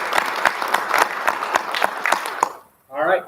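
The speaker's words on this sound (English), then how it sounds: "And one more round of applause" A room of family and friends at a college commitment celebration gives a round of clapping lasting about two and a half seconds, dense and close. It cuts to a short silence, then a voice starts speaking.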